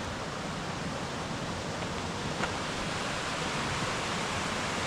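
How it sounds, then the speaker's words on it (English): Steady broadband rush of a river flowing beside a campground trail in Denali State Park, Alaska, a constant close wash of water with no pauses and no voices. "I like the sound of the river."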